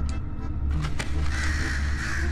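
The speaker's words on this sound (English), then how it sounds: "Evil birds. I want to kill the birds." Crows caw in the video game Night in the Woods, a few harsh calls over a steady low ambient game background, fairly soft and continuous with no talk.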